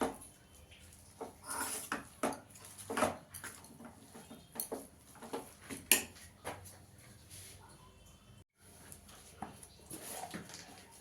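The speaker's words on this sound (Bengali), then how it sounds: "দিয়ে সব ভালো করে মিশিয়ে নেব।" Black cumin being stirred into a cooking pot for a lentil dish, heard as scattered clinks and scrapes of a utensil against the pot, irregular and close, with brief quiet gaps between strokes and no talk.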